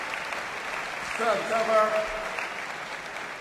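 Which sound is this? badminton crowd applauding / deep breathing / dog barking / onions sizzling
badminton crowd applauding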